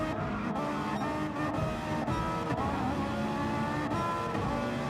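A Ferrari race car in Gran Turismo 7 works through a hairpin, its engine droning loud and continuous with shifting revs and brief downshift dips, close and alone.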